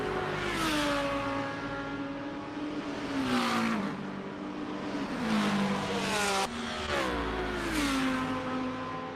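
A Ferrari GT race car at Istanbul Park, its engine note rising and falling through repeated upshifts and revs, loud and steady across the whole stretch with no speech.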